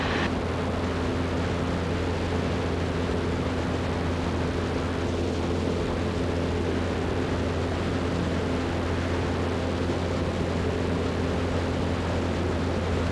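Steady loud drone of a Zenith CH 750 Cruzer light sport kit airplane in flight, engine and propeller noise from inside the cabin holding constant throughout with no talk.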